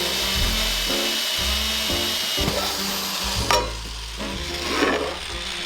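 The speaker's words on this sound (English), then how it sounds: "we're going to drill through the middle" A power drill bores through the middle of a cake plate for a handmade holiday tiered tray. Its whine rises and falls in close bursts, with grinding and rattling between them and a sharp peak near the end.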